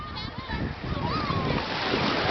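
Sea water splashing at a beach on a hot day, a steady wash of splatter and surf noise with a voice and other speech mixed in throughout.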